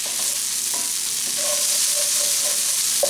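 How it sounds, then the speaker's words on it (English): Pasty filling with corned beef fries in a pan and gets stirred: a bright, steady sizzle close by, with a few scraping strokes of the spoon through the mixture and no talking. "We'll give it another good stir."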